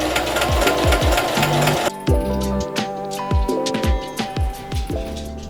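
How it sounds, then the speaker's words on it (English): A sewing machine stitches a half-inch seam along the outer edge of a shift dress with an oversized collar. The motor whirs in close, fast bursts with rhythmic mechanical clatter, and the pace changes partway through. "we're going to sew a 1/2 inch seam allowance on the outer edge"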